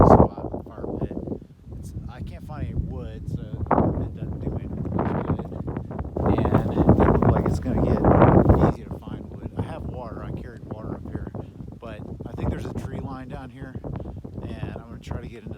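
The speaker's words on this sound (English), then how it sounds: "going to try to get into the tree line and get a little protection from this wind." Strong wind blowing outdoors in an open camping spot near a tree line, buffeting the microphone in continuous gusty rumbles that rise and fall, under a person talking.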